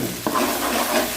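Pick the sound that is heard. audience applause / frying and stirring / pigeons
frying and stirring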